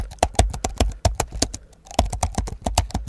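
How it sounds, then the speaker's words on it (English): Keys clack on a keyboard in a slow, heavy, uneven rhythm, close up, with a short pause in the middle. "Typing on a keyboard, typing sequence slow and hard"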